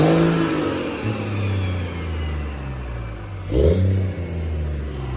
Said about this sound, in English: Go rev it. Go rev it.